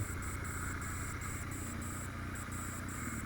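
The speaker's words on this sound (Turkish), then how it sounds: "Böyle tok, güzel bir egzoz sesi var makinede." A Regal Raptor 350 motorcycle idles steadily with a deep, throaty exhaust rumble and a faint high whine, close and continuous with no talk.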